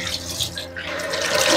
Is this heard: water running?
yes